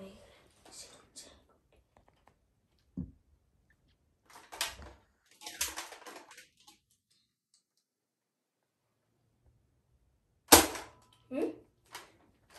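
A Nerf toy sniper rifle fires a dart with a sharp, cap-gun-like pop, heard as a few short bursts, the loudest near the end, between stretches of quiet and children's voices.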